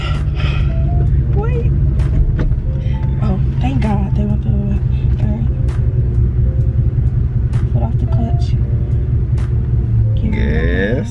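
Ford Mustang Cobra pulling away from a stop, a steady low engine rumble running throughout with a driver's lesson of talk over it.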